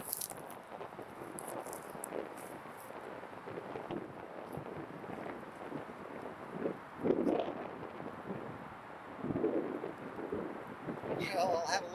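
Strong gusty wind buffets the microphone outdoors on a disc golf course, rumbling and roaring in uneven surges, with faint sounds of movement nearby.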